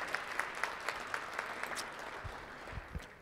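Audience at a small business summit in Newark applauding, a steady patter of many hands clapping indoors, moderately loud and sustained, with a few sharper claps standing out.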